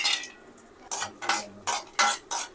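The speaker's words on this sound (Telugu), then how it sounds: "నెయ్యి బాగాడైన తర్వాత జీడిపప్పు కిస్మిస్ వేసి వేపుకోవాలి." Cashews and raisins frying in ghee in a pan while making a jaggery rice sweet, with several sharp scraping stirs and clinks of a spoon over a soft, steady sizzle, fairly close and unaccompanied by talk.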